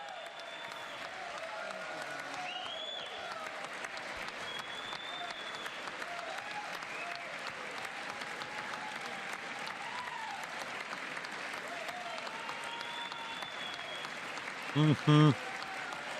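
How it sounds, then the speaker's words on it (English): Dense, sustained applause from a large crowd, continuing unbroken throughout, with a faint murmured voice briefly near the end. "This is a long ass applause."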